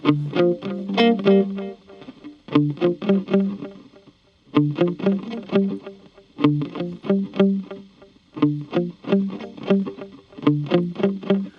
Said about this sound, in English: Now I'm going to play a little something first very softly, and you'll hear very little effect.